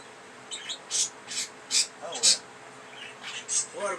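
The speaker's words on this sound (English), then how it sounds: "That means I got me some really happy birds, everybody." Pet budgies chirp close by in a quick series of about a dozen bright, high, short chirps and squeaky calls, spaced irregularly over a quiet background.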